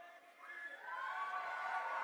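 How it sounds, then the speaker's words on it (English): A crowd cheers and whoops at a bouldering climbing competition final, a faint, distant sustained roar of voices. "Crowd goes wild"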